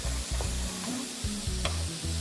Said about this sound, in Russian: Хорошенько обжариваем.